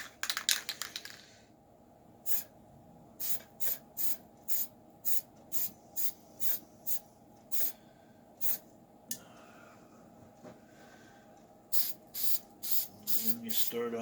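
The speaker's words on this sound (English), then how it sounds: "A little test spray to clear the nozzle." Spray paint hisses from an aerosol can onto the hood of a model Ford Thunderbird in short repeated bursts, close and fairly loud, with quiet gaps between each spray and a brief faint rustle near the end.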